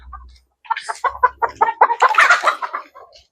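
Five-month-old chickens cluck in a backyard coop, a close, loud run of quick, choppy clucks rising into busier squawking.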